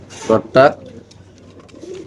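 A pair of caged racer pigeons gives two short, loud coos close by, followed by quieter rustling and a faint later call, with someone speaking nearby.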